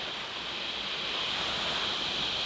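Steady, even rush of falling water at Curtis Falls in Mount Tamborine National Park, a broad constant hiss with no breaks, heard from close by.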